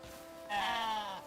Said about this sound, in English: Angry goats.